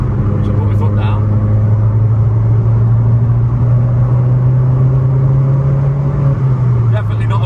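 A Vauxhall Corsa VXR pulls hard under full throttle, heard from inside the car as a loud, steady engine drone that climbs slightly before easing, with a voice briefly audible over it.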